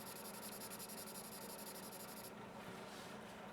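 Steady dry scratching of a Staedtler Mars Lumograph pencil, a carbon-mix lead, on paper, close and continuous, with a soft hissy texture throughout.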